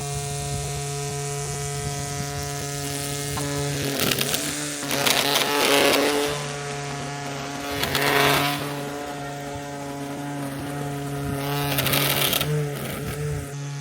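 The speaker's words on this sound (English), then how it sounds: "The trimmer can be a bit noisy when it's running" The edge trimmer of an ECOVACS GOAT A3000 LiDAR PRO robotic lawn mower gives a steady motorized whine with a hum, running continuously at close range, swelling in bursts of louder cutting noise several times.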